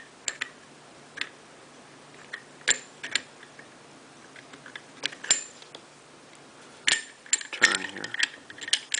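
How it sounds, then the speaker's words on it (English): The bolt carrier of a Remington 31 shotgun is turned and worked off the bolt, giving scattered sharp metallic ticks and clicks close up, with a busier cluster of scraping clicks near the end. "Now, once a bolt carrier is free from there, you want to turn it slightly."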